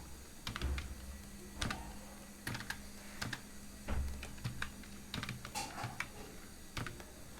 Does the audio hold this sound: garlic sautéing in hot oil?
no